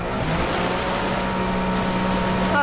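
Motorboat in Far Cry 4, a loud continuous engine drone with rushing water and wind noise, close and sustained with no talk.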